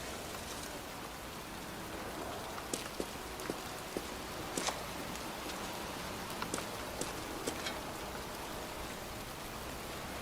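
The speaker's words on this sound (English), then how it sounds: "It's raining." Steady rain falls across a cemetery in the game Heavy Rain, a soft, even hiss broken by scattered nearby drips and faint footstep-like taps, with no voices.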